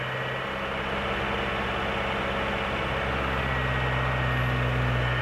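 Heavy 8.1 V8 with a swapped cable throttle body revving and bogging, a deep loud engine roar that climbs unevenly and struggles, close and continuous with no talk.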